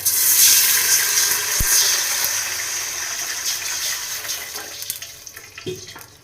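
Water poured into a hot pan of fried spices, a loud rushing gush at the start that fades into a softer hissing bubble, with a few clinks near the end.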